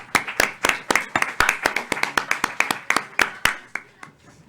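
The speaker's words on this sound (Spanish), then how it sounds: "para ustedes, un gran aplauso" Applause from the audience at a Spanish-language workplace safety and health event: a few close, distinct hand claps, sharp and fairly regular, slowing and thinning out toward the end, with a faint voice underneath.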